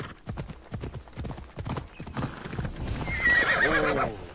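A horse in Assassin's Creed Odyssey clops along with steady, close hoofbeats, then lets out a loud, drawn-out neigh near the end.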